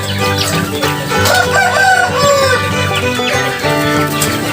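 Backyard chickens with a rooster crowing loudly and close, drawn-out calls over clucking hens and steady farmyard background.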